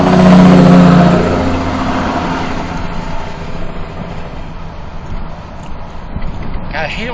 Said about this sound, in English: I hate it when they put on those engine brakes and they're right by my window.